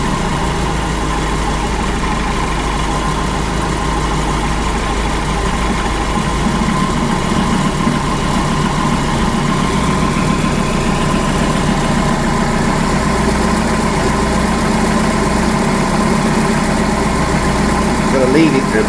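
An AC Cobra engine idles steadily with a low, continuous rumble and faint vibration, the tone nearly unchanged across the whole stretch.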